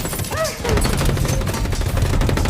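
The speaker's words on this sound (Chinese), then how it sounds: "金姐瞬间觉得大事不妙，一阵阵子弹从洞口发射而来，兔子暴露的洞口竟成了敌人发射子弹的射击口，两人再次陷入危险之中。" Bursts of gunfire fired through a burrow entrance in a film scene, a rapid dense rattle of shots that stays loud and continuous after a brief whistling sound at the start.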